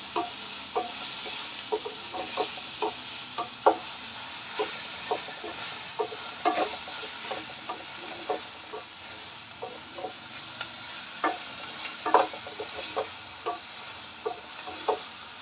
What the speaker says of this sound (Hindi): प्याज हमारी लगभग कुक हो चुकी है, बस इसे हम थोड़ी देर और फ्राई करेंगे।